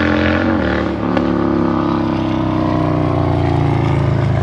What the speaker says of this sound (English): motorcycles, Harleys, if you can't tell